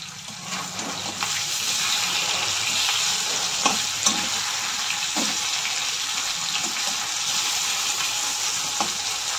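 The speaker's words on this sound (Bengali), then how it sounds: "মাছটাকে আমি লাল করে ভেজে নেব" Pieces of katla fish fry in a pan with a continuous, fairly loud hiss and sizzle, dotted with occasional sharp pops and light utensil taps, and no voices heard.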